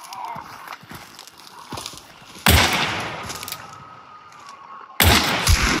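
Two sharp, loud gunshots ring out in the Hunt: Showdown video game, each followed by a lingering rumbling tail, roughly two and a half seconds apart over quieter ambient game sounds.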